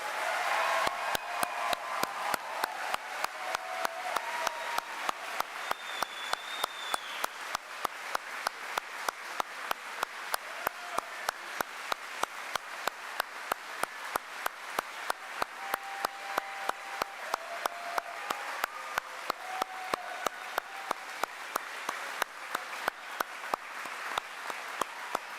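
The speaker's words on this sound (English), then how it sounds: "let's give them a huge round of applause" A crowd at a 2021 high school graduation ceremony claps for the graduates, a long, sustained stretch of steady, closely spaced clapping that stays even in volume for roughly twenty-five seconds with no speech.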